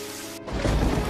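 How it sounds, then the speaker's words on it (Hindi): Steady heavy rain gives way to a deep, rumbling roll of thunder that swells and lingers under the downpour. "हे भगवान, इतनी तेज बारिश।"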